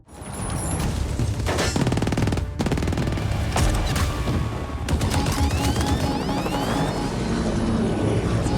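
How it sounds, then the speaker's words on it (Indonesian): Action-film battle with a helicopter attacking: dense bursts of rapid gunfire crackle over a steady roaring engine drone, loud and sustained, with mechanical clatter and whizzing passes throughout. "helikopter kembali muncul dan menembaki mereka"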